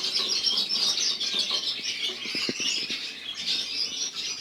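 A small canary wriggles and flaps its wings against a hand during hand-washing, giving close rustling flutters and scrabbling bursts over a background of bird chirps in a canary room.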